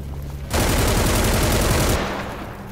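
A chain gun fires in the video game Killing Floor, a loud, dense, rapid burst of machine-gun fire lasting about a second and a half, close and harsh over a background of game noise.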